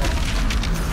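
Grenade blast in Doom Eternal, a loud, dense one-second boom with a broad rumbling low end and crackling spread, no talking.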